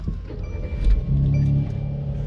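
A Mercedes C43 AMG with a 4.3-litre twin-turbo V6 starts up, a brief low rumble swelling into a short burst before settling to a steady idle close by.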